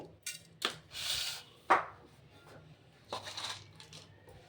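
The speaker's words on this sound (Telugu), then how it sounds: "మేము దొడ్డు ఉప్పు వేస్తున్నాం, అంటే కల్లుప్పు" Coarse rock salt poured into a biryani pot in a home kitchen, giving a few scattered crunchy clatters and a short rattling pour, close by, with quiet pauses between bursts.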